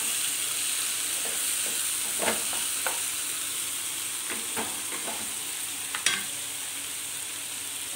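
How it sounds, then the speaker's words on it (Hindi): Tomatoes tossed into onions frying in oil and stirred in: a steady, fairly loud sizzle runs throughout, with scattered scraping stir strokes and one sharper clatter near the end, no talking. "अब इसमें मैं ये टमाटर डाल देती हूँ, मिला देते हैं इसको"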